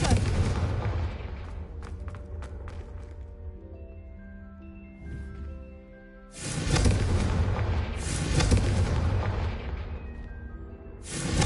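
Confringo fire spell explosions in a Hogwarts video game come as loud booming blasts with crackling bursts, a lull with sparse tonal effects, then another heavy sustained eruption.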